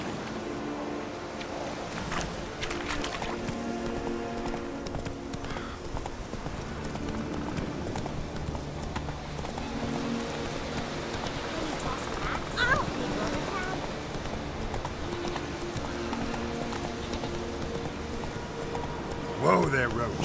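Hooves of Roach, the horse in The Witcher 3, clip-clop in a steady rhythmic gallop, moderately loud and continuous under a man's brief spoken commands.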